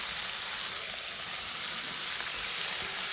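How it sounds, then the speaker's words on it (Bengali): Water hitting a pan of frying garlic, ginger and green chili paste gives a loud, steady, bright sizzle that hisses continuously with no talk. "এখন এই পর্যায়ে আমি একটু জল দিয়ে দেবো।"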